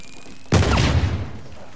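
Gunfire and an explosive burst in the Uncharted 4 video game, a sudden loud blast followed by a rumbling, crackling decay lasting about a second, with no speech over it.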